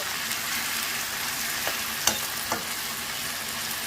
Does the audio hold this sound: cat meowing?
no